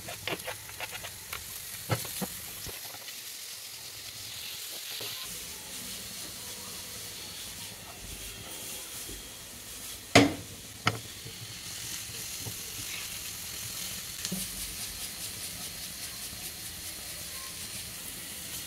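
Chopped onions frying with finely chopped ginger, garlic and green chilli, a soft steady sizzle throughout, broken by a few sharp clinks of stirring, one louder knock near the middle, and no speech.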